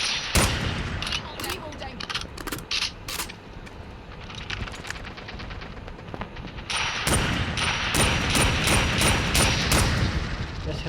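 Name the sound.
gunfire in Call of Duty Mobile video game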